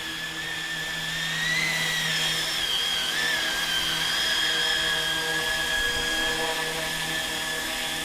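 A ROBAN 470 remote-control helicopter whines steadily nearby, its high-pitched motor wavering slightly in pitch with no talking.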